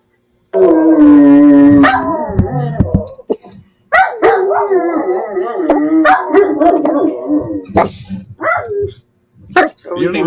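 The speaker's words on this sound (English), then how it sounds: "You don't even know what you're barking at." A dog howls and barks loudly and close, a long sustained howl followed by a run of barks, yips and whining bursts with short pauses between.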